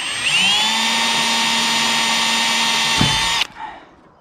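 A power drill boring holes in a Cobra Daytona car body panel while fitting a rear spoiler, a loud steady whine that spins down with a short clunk, then a brief trailing rattle.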